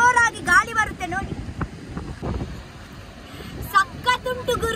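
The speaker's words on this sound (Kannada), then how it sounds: "ಎಷ್ಟು ಜೋರಾಗಿ ಗಾಳಿ ಬರುತ್ತೆ ನೋಡಿ" Strong wind blows across a beach near Murdeshwar, a loud, steady rumbling gust over the microphone that runs through the whole stretch, with someone talking over it at the start and end.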